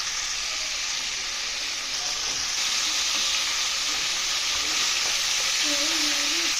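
Fish pieces, rubbed with salt and turmeric, frying in cooking oil, giving a dense, continuous sizzle that stays loud and even up close, with faint stirring underneath and no voices.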